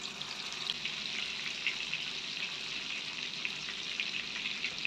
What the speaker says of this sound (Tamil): ஒரு லெக் பீஸாக எடுத்து வச்சுட்டு ஒரு 2 நிமிஷம் மீடியம் ஃப்ளேமில் குக் ஆகட்டும்.